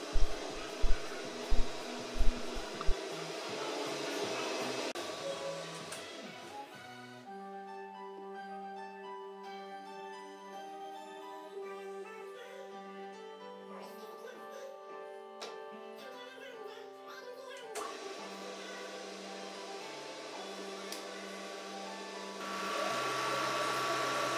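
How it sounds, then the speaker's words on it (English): A metal lathe turns down the rounded head of a part, opening with a few sharp knocks, then a steady motor whine with shifting tonal hums that rises in strength again near the end. "now back to the lathe and uh, turn the head a little bit rounder"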